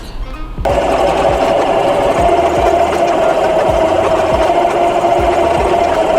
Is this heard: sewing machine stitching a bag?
yes